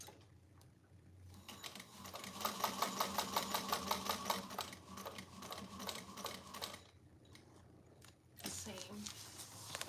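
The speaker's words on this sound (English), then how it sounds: "I feel like I could just stitch across this to the other." A sewing machine stitches across a bag seam in a steady rapid run of needle strokes that pauses and then resumes briefly near the end, with quiet room noise around it.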